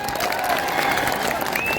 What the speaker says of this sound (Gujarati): એમના માટે પણ તાળીઓ પાડી લઈએ